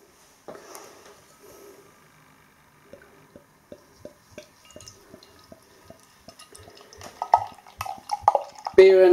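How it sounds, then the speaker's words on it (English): Broughton Greenmantle Ale pours from a bottle into a glass, starting with soft dripping glugs and swelling into a louder, fizzing splash near the end, close and alone. "Let's get this beer out into a glass and see what we get."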